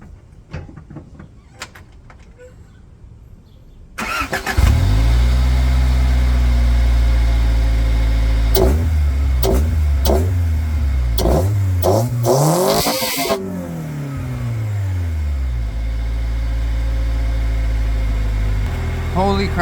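A car fitted with a homemade cold air intake cranks to life, then roars through several sharp revs that rise and fall before settling into a loud, steady idle, close up with an intake hiss.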